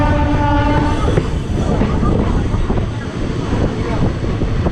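A passenger train pulls into Shaktigarh railway station, a steady loud rumble of wheels and carriages with a faint horn-like tone early on and wind buffeting the microphone throughout.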